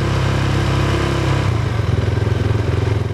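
A motorcycle engine runs loud and close during a roadworthiness exhaust sound test in Buenos Aires, holding a steady rumbling idle that shifts to a pulsing, throbbing beat partway through.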